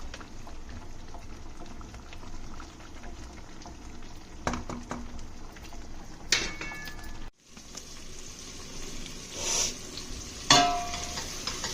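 Omelettes and tomato curry fry in a pan with a steady close sizzle and bubbling, broken by a few brief clinks and stirring knocks, with no voices.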